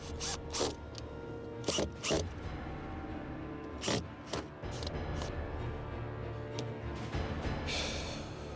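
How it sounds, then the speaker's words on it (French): Four screws are driven in by hand to close up a device, giving short, close ratcheting clicks and scraping bursts separated by pauses, with a low mechanical rumble underneath. "Je ferme. 4 vis. Je les visse."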